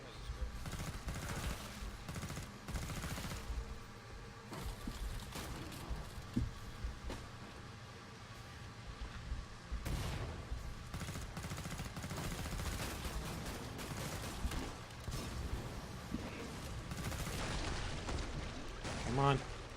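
Gunfire from a weapon in the video game Killing Floor 2 comes as repeated bursts of shots mixed with explosive game effects, sounding fairly faint and mostly steady, while a player talks over the action.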